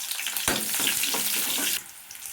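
Mustard seeds, dried chillies, garlic and onions hit hot oil with a loud crackling sizzle that flares, holds steadily, then drops off sharply near the end; no talking.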